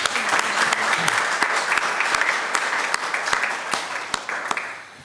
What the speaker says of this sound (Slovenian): Pa en aplavz mogoče za njega.